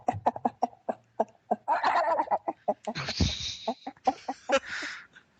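A voice imitates a clucking chicken with rapid, choppy clucks and squawks in quick bursts, close and lively, rising into a drawn-out screech near the end.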